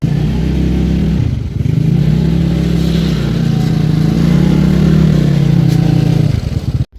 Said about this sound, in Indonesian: Tiba-tiba aku udah balik aja dari pasar dengan motor tuaku ini